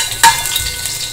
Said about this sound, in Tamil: வந்து தாளிக்கிறதுக்கு வெறும் பிரிஞ்சி இலை மட்டும்தான். அப்புறம் பூண்டு,